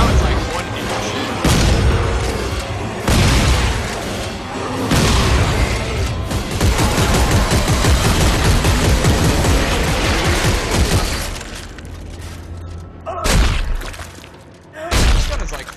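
Shotgun blasts in the co-op sci-fi horror game Dead Space 3, a string of heavy, loud booming shots with mechanical clatter in between and a few gaps near the end.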